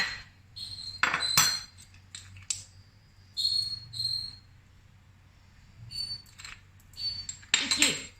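A spoon scrapes and clinks against a bowl in irregular bursts as zucchini fritter batter with flour, salt and olive oil is stirred, with quiet pauses between strokes.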